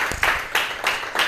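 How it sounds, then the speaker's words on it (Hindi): A church congregation claps together, a dense, steady wash of applause with rhythmic surges about every third of a second, fairly loud and close. "जोर से ताली बजाएंगे"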